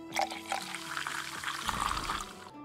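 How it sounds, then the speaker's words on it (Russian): Ale poured in a tavern management video game, a steady liquid stream running for about a second alongside game sounds and light clinks, moderately loud and close. "Надо налить эльчики. Эльчики наливаем."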